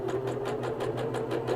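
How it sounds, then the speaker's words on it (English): A sewing machine stitching a cloth napkin, running steadily with a fast, even mechanical rhythm of needle strokes, close and continuous. "So we're going to stitch a little bit."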